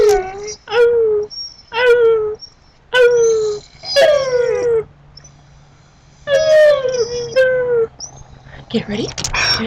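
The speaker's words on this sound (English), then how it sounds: "You gonna howl with me?" A dog gives a series of rising, wavering howls and whimpers, about six separate cries, loud and close, with short pauses between them.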